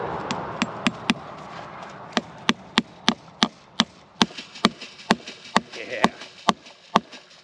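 Sharp metallic hammer blows strike in a steady rhythm, about twenty close, ringing hits pounding a barbed wire fence staple into a wooden post.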